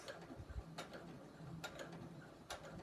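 A sewing machine works a straight stitch through thick layers of fabric on a beach tote, giving a quiet mechanical whir with a few soft clicking knocks at intervals, close by.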